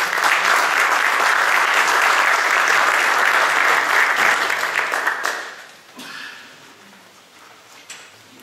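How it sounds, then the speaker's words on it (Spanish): An audience welcoming an engineer to the stage at an architects' association event in Lima, Peru, with loud, dense clapping that fades out after about five seconds, leaving a quiet room and a few scattered sounds. "Recibimos con un fuerte aplauso entonces al ingeniero Luis Ricardo Gutiérrez Aparicio"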